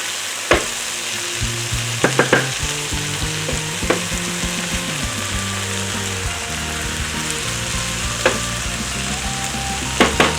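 Garlic sizzling in a hot pan with scrambled eggs for a diner-style breakfast, a loud steady crackle and hiss with a few sharp utensil taps against the pan.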